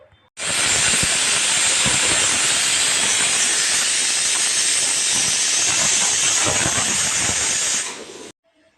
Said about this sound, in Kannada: ಒಂದು ವಿಸಿಲ್ ಕೂಸ್ಕೊಂಡ್ಬಿಡ್ತೀನಿ